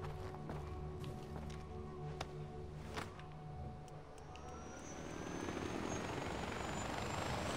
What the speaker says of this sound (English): I got one of them helicopter thingies.